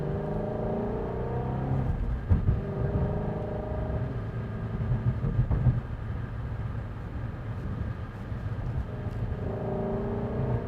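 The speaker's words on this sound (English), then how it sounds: "Love that throaty exhaust sound." A low-mileage 2016 Ford Mustang GT350 rumbles steadily through its throaty exhaust for about eleven seconds, with engine swells around two and five seconds in. No one speaks.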